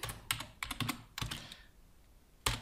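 Typing on a computer keyboard, quick uneven bursts of crisp key clicks up close, a short pause, then a single sharp keystroke near the end.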